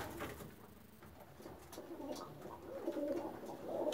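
Pigeons sitting in a loft on a wintry day, cooing softly and intermittently amid faint rustling, quiet and close.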